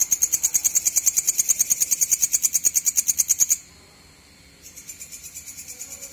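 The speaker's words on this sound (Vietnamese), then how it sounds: "Con châu chấu buổi tối nó kêu làm chúng ta tưởng là con chim" A grasshopper at night: loud, rapid pulsing chirps repeat steadily, stop abruptly for about a second, then resume softer and less regular; no voices.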